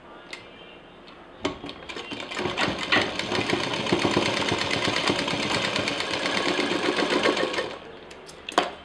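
Sewing machine stitching fabric for a handmade hanging organiser, with a steady, close, loud mechanical rattle running for about six seconds between a few sharp clicks at start and end.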